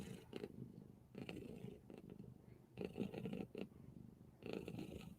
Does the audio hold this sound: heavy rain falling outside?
no